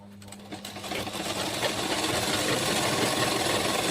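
A sewing machine runs zigzag double stitching along a petticoat, starting softly and quickly building into a loud, continuous mechanical whirr that holds steady to the end.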